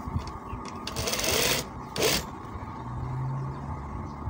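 A sewing machine stitches a pocket onto a kameez in two short bursts of whirring close by, with fabric rustling and low handling noise between and after them.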